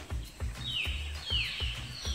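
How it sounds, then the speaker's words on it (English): Faint high bird chirps, a few descending notes, over a steady low rhythmic thumping in the background. "That's a bird chirping."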